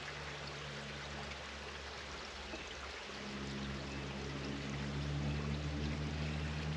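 Motor oil pours into the gas engine of a 1960 John Deere 1010 backhoe, a steady liquid stream with a low hum beneath, continuing for several seconds.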